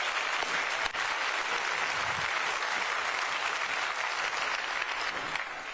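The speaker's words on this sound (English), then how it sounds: "give them another round of applause" An audience at a county government address applauds steadily, a dense, sustained clapping that holds at an even level throughout with no speech over it.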